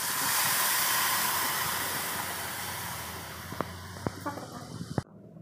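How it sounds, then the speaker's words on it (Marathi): Mashed moong dal hits hot oil in a tempering pan with a loud rushing sizzle that gradually fades, followed by a few sharp clinks and taps before cutting off. "हे त्या थोंडीमध्ये टाकून द्यायचं आहे। थोडं हळू टाकायचं आहे, तेल भरपूर गरम आहे"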